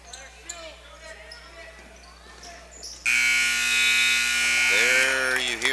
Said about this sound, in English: There you hear the buzzer, and that will end our basketball game.